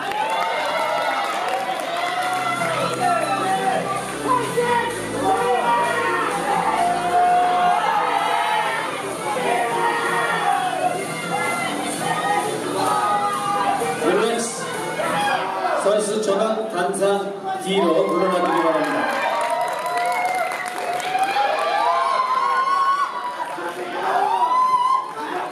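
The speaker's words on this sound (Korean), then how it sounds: "박수가 필요합니다" Crowd at a bodybuilding contest, the Mister Gyeonggi Grand Prix final, with cheering, shouts and scattered clapping mixed with lively chatter and voices, rising and falling over the whole stretch.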